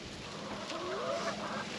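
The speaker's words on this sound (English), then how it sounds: "There's hens in there." Backyard hens give a faint, brief rising call from some distance against a steady outdoor background hiss.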